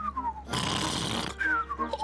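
A voice imitates loud snoring for a pig-uncle character in a children's cartoon: one long, broad, rasping snore in the middle, between softer whistling tones before and after.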